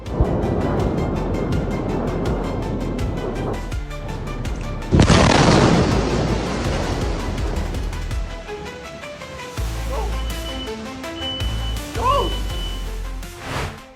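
Bombs exploding in Israel, a dense rumbling barrage with a loud blast near the midpoint, followed by rolling booms and a rising whistle-like tone, with faint voices mixed in.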